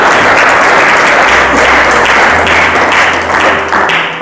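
A church congregation claps loudly in praise, a dense, sustained wave of applause filling the room at close range and tapering slightly near the end.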